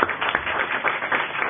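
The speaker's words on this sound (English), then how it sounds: "clap very warmly" Warm applause from a lecture audience at a law seminar, steady dense clapping heard fairly close and sustained throughout, with no voices over it.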